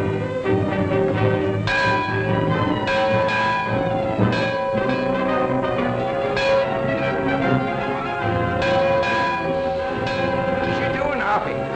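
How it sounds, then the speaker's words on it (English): Repeated bell strikes ring out loud in a 1947 Western setting, a series of clangs every second or so over a dense, continuous background of music and noise. "That bell's gonna ring again"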